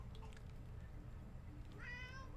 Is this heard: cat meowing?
yes